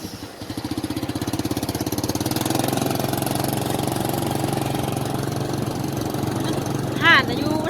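A motorbike engine runs steadily while riding on a road in Laos, a close, continuous mid-pitched drone with a throbbing rhythm and a brief voice near the end.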